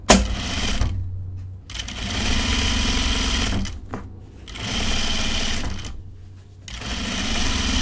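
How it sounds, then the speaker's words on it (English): A serger stitches fabric seams for a pair of men's pants in loud rapid bursts, stopping briefly three times before whirring on again. "I don't like interrupting my serging like that."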